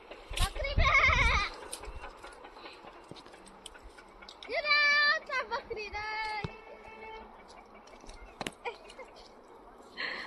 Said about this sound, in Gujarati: શ્યાં ગઈ બકરી?